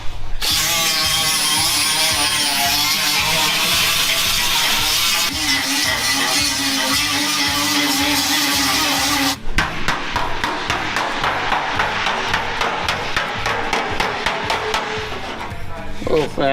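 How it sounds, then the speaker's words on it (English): An angle grinder strips rust from a Chevy Blazer body. It whines loudly and steadily at close range, then switches to a harsher, rattling grind partway through. "Decided to grind it all the way?"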